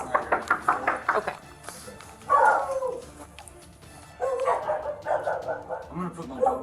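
A dog barks repeatedly in quick bursts indoors, loud and close, with a pause between volleys and voices talking tensely around the barking.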